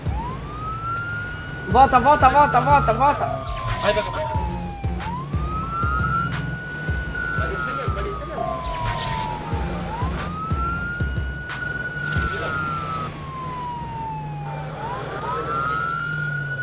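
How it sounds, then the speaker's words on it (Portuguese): A police car siren in the video game Arma 3 wails in slow rising and falling cycles, loud and continuous, with someone talking over it. "Liga a sirene, para esse cara aí."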